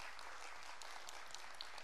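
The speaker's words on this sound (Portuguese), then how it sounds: "Uma salva de palmas para essa família linda" Applause from a church congregation, steady and fairly faint, with scattered claps standing out over a continuous wash of clapping.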